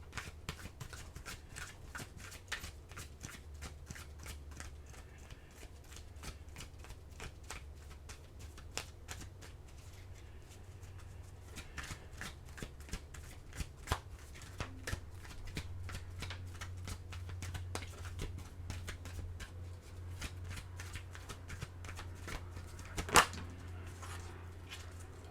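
Oracle cards are shuffled by hand in a steady, continuous stream of crisp riffling clicks and soft flutters, close and fairly quiet, with no talking over it.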